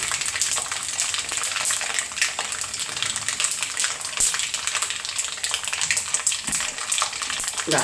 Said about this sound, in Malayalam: കടുകിട്ട് ഈ ഒരു 5-6 ഉലുവ പൊട്ടിക്കാനായിട്ട്